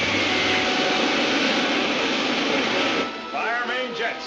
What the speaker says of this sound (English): Fire pilot jets.